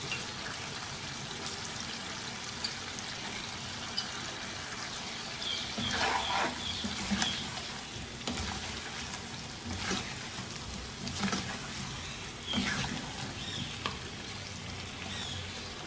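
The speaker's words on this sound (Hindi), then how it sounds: "जिस तेल में चिकन फ्राई किया था वो तेल गरम किया है मैंने, उसमें से मज़ीद 2-3 खाने के चम्मच तेल के इसमें शामिल कर देंगे" Hot oil left over from frying chicken is poured into a chicken karahi, setting off a steady crackling sizzle with bursts of spattering, close and moderately loud throughout.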